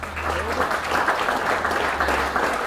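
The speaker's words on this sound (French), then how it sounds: "On les applaudit." An audience at a graduation ceremony for retail and commerce employees applauds steadily, a dense, even patter of clapping hands from a crowd that holds at a constant level for the whole stretch.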